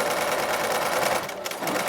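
A sewing machine stitches the seam of a fabric face mask, running fast and steady at close range with a dense whir for the full two seconds and a brief dip in speed near the end.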